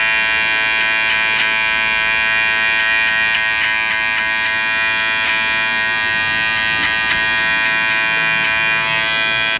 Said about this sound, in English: peach fuzz off their ears with the trimmer